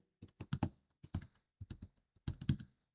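Keys clatter on a computer keyboard as text is entered into a PowerPoint slide. Quiet, close-up taps come in short irregular bursts with brief pauses between them, and no voice is heard.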